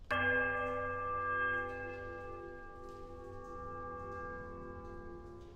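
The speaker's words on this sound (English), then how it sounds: "Examine the bells." A single deep bell in the Pillars of Eternity video game strikes once and then hums on in a long, slowly fading resonance with no voices.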